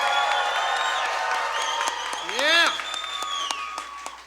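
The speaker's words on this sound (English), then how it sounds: "please give it up for Astro!" A show audience at DNA Lounge applauds a performer, light clapping spread through the room with a rising whoop of cheering near the middle, set against a tonal hum and some crowd voices.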